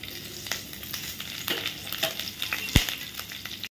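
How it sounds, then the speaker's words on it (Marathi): Cumin seeds and green chilli pieces sizzle in hot ghee for a fasting ukad dish, a bright crackling hiss with a few sharp pops, close and steady throughout. "हे तूप तापलंय आता त्याच्यामध्ये मी हे जिरं घालते फोडणीत आणि नंतर मिरच्यांचे तुकडे घालते."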